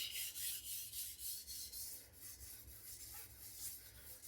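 Light, rhythmic rasping strokes of a knife being deburred on an Atoma diamond plate, quiet back-and-forth scrapes repeating about twice per second with no talking.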